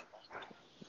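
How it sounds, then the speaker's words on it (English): A dog whimpers and yips faintly in short, uneven bursts, distant and low in level. "That damn dog."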